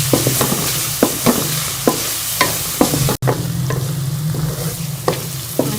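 Spices with green chilli fry loudly in a pan for chappan kaddu sabji, a steady sizzle broken by repeated sharp scrapes and taps of a spatula stirring.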